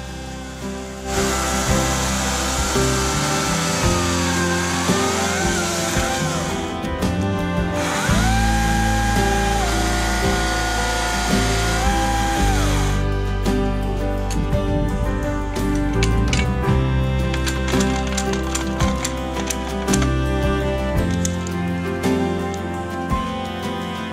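An Oregon CS300 battery-powered chainsaw runs continuously while its built-in stone sharpens the chain, giving a loud, steady high-pitched whine close by with shifting tones as the stone engages, and no talk over it.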